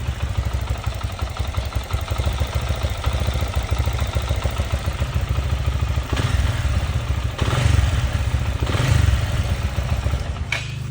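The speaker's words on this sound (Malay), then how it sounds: "masih smooth engine dia. Kau boleh dengar engine" A Suzuki Raider R150 Fi (RFS150i) motorcycle engine, started after six months unused following an accident, idles steadily nearby, a continuous low mechanical rumble with a faint clatter, running alone without talk.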